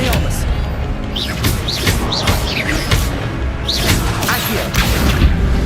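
Repeated spell-casting in Hogwarts Legacy combat brings rising whooshing zaps, bright magical chirps and heavy booming impacts in a busy, loud stream, with voices over the action.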